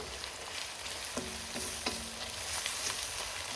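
Food frying in a pan over a medium-low gas flame, a steady soft sizzle running throughout with a few faint scrapes and knocks, close and alone without talk.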